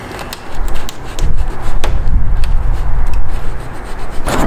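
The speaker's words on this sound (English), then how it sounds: "if you just use some fishing line or dental floss, you'll be able to kind of cut through it" Dental floss or fishing line sawn through the adhesive tape behind a BMW M3 badge, a loud close gritty rasping and rubbing that runs on continuously, with a few sharp ticks, and no talk.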